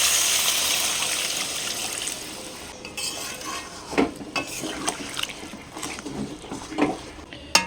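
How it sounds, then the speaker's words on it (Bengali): Water poured into a pan of chicken curry, a steady rushing pour that fades into a few clinks and stirring knocks against the pan. "এবার জল দিয়ে দেবো।"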